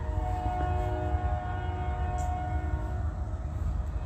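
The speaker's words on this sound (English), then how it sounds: "That's supposedly a train in the background." A train passes at a distance, a steady low rumble with long tonal horn-like lines sustained throughout, heard alone with no talk.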